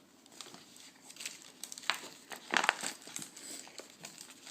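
A Swedish military ration pouch holding a dehydrated Indian chicken stew meal is torn open: crinkly plastic-foil rustling that builds into a few sharper, louder ripping bursts near the middle, close up and with nobody talking.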